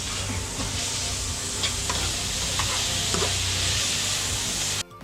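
Minced pork with holy basil being stir-fried in a smoky pan on a fishing raft, a steady loud sizzle with scraping stirring strokes throughout, ending abruptly.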